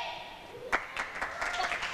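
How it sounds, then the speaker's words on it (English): A crowd at a team table tennis match breaks into applause, with a sharp burst of claps and then lighter, uneven clapping that carries on at a moderate distance. "the crowd are really getting into this match."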